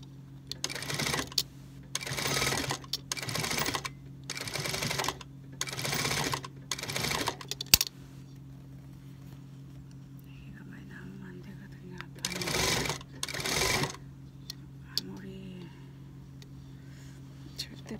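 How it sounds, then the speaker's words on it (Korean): A sewing machine stitches the shoulder seam of a faux-fur jacket in repeated bursts of one to two seconds with short pauses, loud and close, then resumes after a quieter stretch with faint handling sounds. "노루바이를 안 갈아 꼈는데도 박아지네요"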